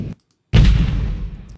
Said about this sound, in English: Okay, so the military blast here.